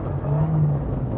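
Rally car engine heard from inside the cabin on a stage of the 2011 Sunseeker Rally in North Cyprus, a steady loud droning hum held briefly at near-constant revs.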